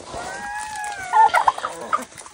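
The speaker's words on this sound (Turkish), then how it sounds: "Tavuklar yemlerini yesin." Chickens on a farm cluck and call while eating their feed, several short bursts building in the second half over a soft outdoor background, fairly close.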